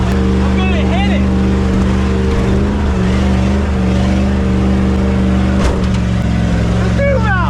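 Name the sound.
Ford truck engine revving with throttle floored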